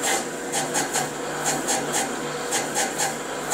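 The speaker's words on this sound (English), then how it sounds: "This is just a manual surface grinder." A manual surface grinder grinding metal with coolant flowing, giving a steady rasping hiss with rhythmic, repeating scraping pulses as the wheel works across the workpiece.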